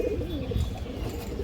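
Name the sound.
female Muslodom pigeons cooing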